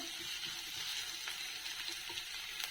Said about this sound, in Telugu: అల్లం వెల్లుల్లి పేస్ట్ పచ్చివాసన పోయే వరకు వేయించుకున్నాము